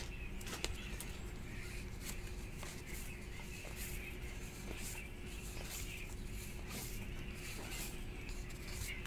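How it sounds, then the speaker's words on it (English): Faint birds chirp in scattered short calls against a steady low background hum, with no voices present. "Listen to all the birds."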